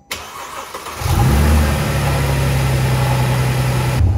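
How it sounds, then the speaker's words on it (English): A Mercedes W204 engine cranks briefly and fires up after an ignition coil replacement, settling into a steady, close, loud idle with no talk over it. "you're free to start your engine and make sure everything works"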